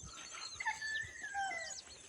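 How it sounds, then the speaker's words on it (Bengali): Domestic chickens wandering through a village in Bankura: a few short clucks and drawn-out calls, fairly faint and slightly distant, over a quiet outdoor background. "অনেক মুরগি ঘুরে বেড়াচ্ছে জঙ্গলি মুরগি জঙ্গলি নয় পোষা মুরগি"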